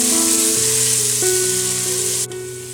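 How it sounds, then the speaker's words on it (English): Ginger and garlic sizzle loudly and constantly while sautéing in a hot pan, and the hiss drops suddenly in level just before the end. "and now 1 tablespoon of ginger I've added. We will saute them nicely."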